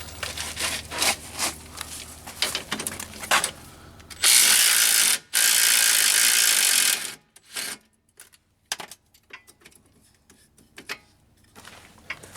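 Ratchet wrench working on the lower control arm bolt of a Jeep TJ axle, with quick clicking ratchet strokes and metallic handling, plus two loud sustained bursts of a power tool midway.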